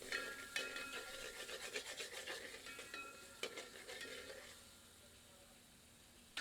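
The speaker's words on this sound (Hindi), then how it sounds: "मिलाकर 2 से 3 मिनट धीमी आंच पर भूनते हैं।" Tomato puree tadka for Punjabi dal makhani frying on a low flame, with a soft continuous sizzle and repeated scraping strokes of a spoon stirring, easing into a quieter hiss near the end.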